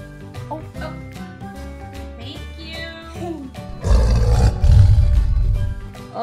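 A Lion Guard toy plays a recorded tiger roar, a loud rumbling growl that bursts in over lighter toy music and chimes and carries on for a couple of seconds.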